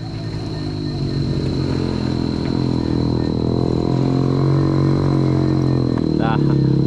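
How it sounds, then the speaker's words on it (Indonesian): Motorcycle climbing a steep newly built coastal road near Solok, engine droning steadily and growing slightly louder under constant throttle, with wind noise and no speech. "motor yang seperti ini santai aja naiknya tenang"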